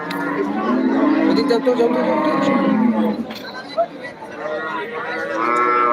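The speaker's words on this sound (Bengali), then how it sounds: "এই হচ্ছে গরুটা আমরা এই পাশে দেখাই" Cattle at Deohata cattle market low and bellow in several drawn-out moos, loud and close, with crowd chatter and someone talking alongside.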